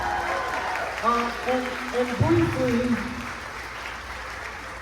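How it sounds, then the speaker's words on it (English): An audience claps for an orchestra leader at a rehearsal of a John Williams medley, the applause a steady wash beneath a voice talking over it. "Give this man a round of applause."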